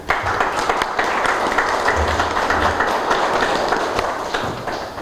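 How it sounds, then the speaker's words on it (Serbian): Sustained applause from an audience at a book event on remembering the genocide, a dense, even crackle of clapping hands filling the room for about five seconds without letting up. "Ja vas molim jednim aplauzom da je podržite."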